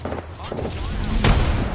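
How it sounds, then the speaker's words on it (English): Grenade blasts in the battle-royale shooter Apex Legends give heavy low booms and thuds amid gunfire, with a larger explosion near the end, under players talking over voice chat. "Throwing grenades."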